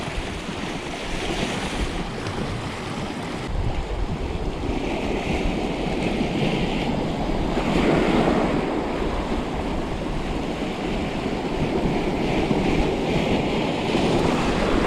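Strong wind buffets the microphone at the seashore in Normandy during sea bass lure fishing, with the steady wash of surf underneath. The roar is continuous and loud and rises in gusts, with no talk.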